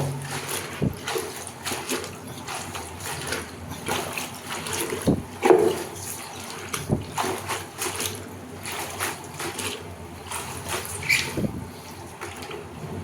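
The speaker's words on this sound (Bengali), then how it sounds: "এটাকে সেকেন্ড টাইম আরেকবার ধুয়ে নিলাম ভালো করে কজলে" Pigeon stomach is rinsed a second time in water, giving soft sloshes, trickles and a few sharper splashes at uneven intervals. The sounds are close and low-level, with brief quiet gaps.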